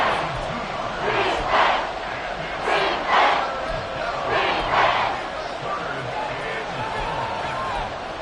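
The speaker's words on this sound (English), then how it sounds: "This crowd turning up the decibel level." A football stadium crowd roars in a steady mass of noise, swelling into several loud surges of yelling and cheering that rise and fall during the game.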